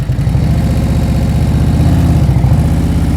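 A motorcycle engine idles steadily up close, its low, even exhaust pulse throbbing with a fast, regular rhythm and no talk over it.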